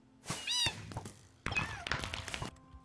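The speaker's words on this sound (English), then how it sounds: "Freaking crying cats." Cats in a video game cry out in two bursts of wavering, plaintive meows, the first short and rising, the second longer with a few thumps, fairly faint overall.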